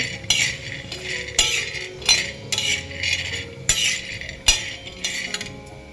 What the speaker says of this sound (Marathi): असं आपण बारीक गॅसवरती असं जरा लालसर होईपर्यंत आपण असं भाजून घ्यायचं.